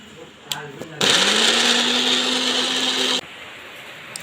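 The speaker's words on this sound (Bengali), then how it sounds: "এবার ব্লেন্ডার জারে এগুলোকে সব দিয়ে এখন ব্লেন্ড করে নেব" A kitchen blender whirs loud and steady for about two seconds, grinding spices with cumin powder, salt and sugar in its jar, starting and stopping abruptly with a rising motor whine and brief quiet before and after.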